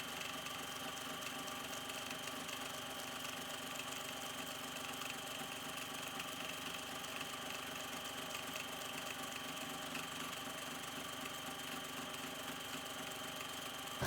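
A sewing machine sews lace onto a junk journal cover, running as a continuous, steady, low mechanical hum without pause, close but fairly quiet.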